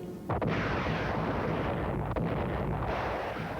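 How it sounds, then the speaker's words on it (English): Artillery guns open fire in the WWII Battle of the Bulge: a sudden heavy boom gives way to a dense, sustained roar of gunfire, with another sharp blast partway through. "the Nazi guns opened fire"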